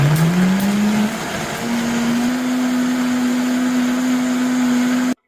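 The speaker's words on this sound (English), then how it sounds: "You then place them in the blender, cover with water and blend." A blender whirs through soaked soybeans and water, a loud, close motor whine that rises in pitch as it speeds up, holds steady, then cuts off abruptly.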